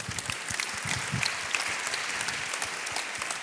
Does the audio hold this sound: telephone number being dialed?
no